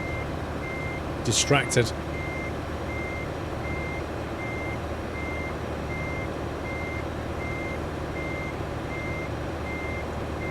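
A truck in a trucking video game sounds its reversing alarm, a steady series of evenly spaced beeps over a low engine hum, with a brief voice near the start.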